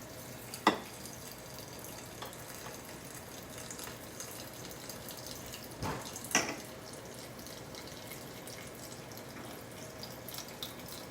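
Water runs quietly from a tap over broccoli sprouts in a kitchen sink, a faint steady trickle broken by a few brief splashes and clinks.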